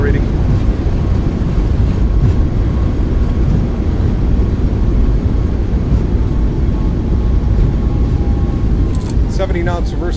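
A Boeing 737 MAX 8 in a flight simulator rolls out after landing at Maui with reverse thrust engaged, a loud continuous engine roar holding steady, with a few brief chirps near the end.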